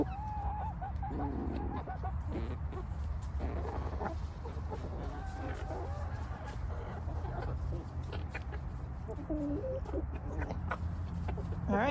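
Backyard coop chickens peck at a leftover pear and cluck softly, with scattered clucks and short calls over a low rumbling background, fairly close and moderate in level.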